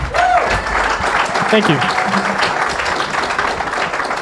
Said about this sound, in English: So let's give Peter a round of applause.